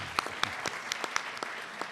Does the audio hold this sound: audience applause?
yes